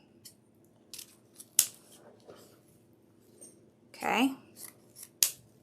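Scissors snip through a wreath ribbon tail, several crisp separate cuts with rustling of ribbon between them, close and clear, with a brief spoken word near the start.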